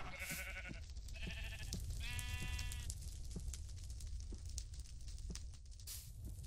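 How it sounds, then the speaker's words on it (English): Several sheep bleats from Minecraft, short wavering calls clustered near the start over a steady game background, with a few soft clicks and faint noise afterward. "Ooh, it's a little sheep. Hi, little sheep."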